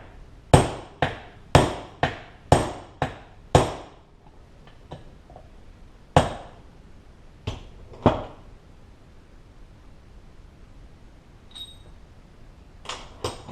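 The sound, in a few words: hammering bushing driver into transmission part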